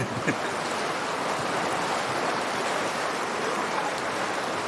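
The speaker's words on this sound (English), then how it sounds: "Cold, damp morning on the Yellowstone River." The Yellowstone River in Wyoming flowing on a cold, damp morning, with the water running a little high. It makes a constant, even rushing wash that holds steady throughout, with no voices.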